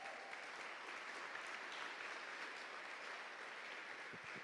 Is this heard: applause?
yes